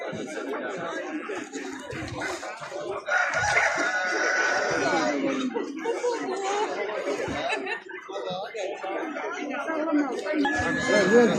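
Chickens and roosters at a busy outdoor poultry market, with overlapping clucks, squawks and a rooster crowing amid constant crowd chatter and people talking nearby.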